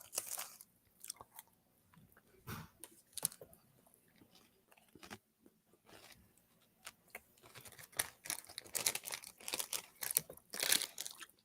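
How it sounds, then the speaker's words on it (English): Loud, close crunching from someone eating a snack, with irregular bites and chewing that come in clusters and grow denser toward the end, with no talking. "apologies, guys, if my crunching is very loud"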